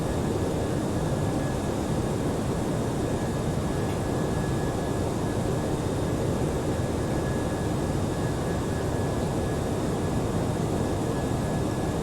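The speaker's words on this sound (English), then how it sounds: "We are aboard an Airbus A320" Airbus A320 cabin in flight: a loud, constant broadband roar of engines and airflow with a faint steady whine, unchanging throughout and with no voices.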